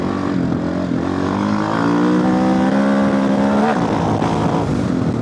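AJP PR7 single-cylinder motorcycle engine revs upward under acceleration, rising steadily in pitch before a brief dip at a gear shift and then pulling on, loud and close with wind noise.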